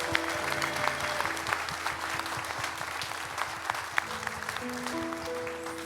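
A church congregation at a Sunday worship service claps together in sustained, dense applause while sustained organ or keyboard chords ring underneath, steady and fairly loud throughout.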